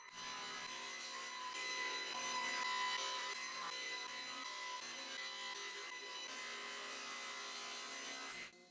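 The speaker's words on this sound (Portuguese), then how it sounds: "na serra de bancada, cortei cada peça nas dimensões finais" Table saw cutting wooden pieces to final size for a TV rack, a steady loud whine that holds for about eight seconds before stopping abruptly.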